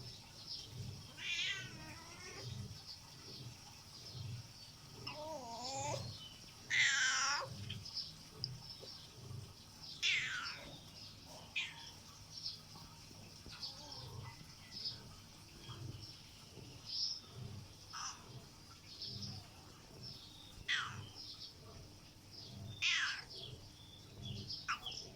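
A black stray cat meows repeatedly while being fed, short rising calls spaced every few seconds at close range, with faint water sounds and distant birds in the background.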